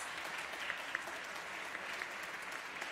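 Steady, distant applause from a concert hall audience honoring a composer at a classical music competition honors concert, an even wash of many hands clapping with no voices over it.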